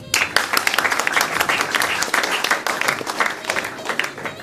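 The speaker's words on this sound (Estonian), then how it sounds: "Aplausi." An audience at the Saue sports stars award event for 2019 breaks into sustained, lively applause, with dense clapping close by that carries on for several seconds.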